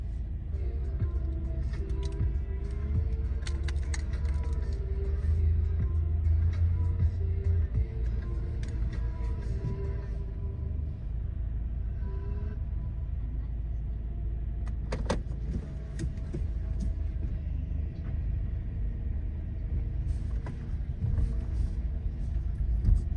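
A car drives along a road, heard from inside as a steady low engine and road rumble that holds evenly throughout, with no talking.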